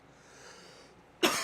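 A single sharp cough bursts out close to the microphone at the end, after a quiet stretch of faint room noise during a live talk stream.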